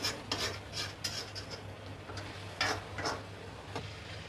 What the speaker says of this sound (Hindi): और अब इसको अच्छे तरीके से भूनेंगे